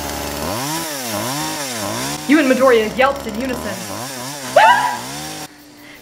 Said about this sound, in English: That was the sound of a revving chainsaw.